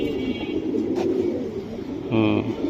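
A pigeon coos briefly near the end, a short low throaty burst over a steady background murmur, with a faint higher call earlier; part of a pigeon sale featuring breeds such as Airtel and army pigeons.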